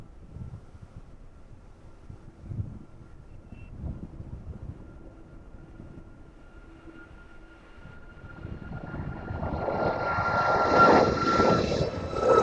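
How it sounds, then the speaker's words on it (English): A Ryanair airliner bound for Venice descends toward runway 27, its engine roar swelling from a faint distant hum to a loud, broad rush in the final seconds, with wind buffeting the microphone. "Let's have a look in the line of 27 then, as that Ryanair service to Venice makes its way down towards us now."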